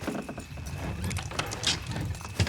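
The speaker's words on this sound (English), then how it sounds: "Good horses." Horses' hooves clip-clopping in Red Dead Redemption 2, a steady run of close, moderately loud hoofbeats over a low ambient rumble, with no talk.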